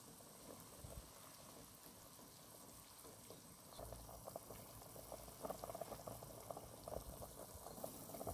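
A pot of bones simmers for mustard green soup, giving a steady, quiet bubbling that swells slightly and grows a little busier toward the end, with no talk.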